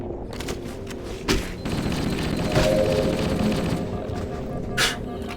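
Rapid assault rifle fire in Halo: Combat Evolved, with continuous bursts of close, loud shots mixed with heavier booms and thuds that rise and fall over a few seconds.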